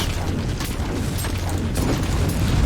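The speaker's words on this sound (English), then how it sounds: "They just explode quickly, doing a lot of damage here" Enemies blow up in the Warhammer 40,000: Inquisitor video game, a dense run of heavy booming explosions and bursts packed closely together over a rumbling low end.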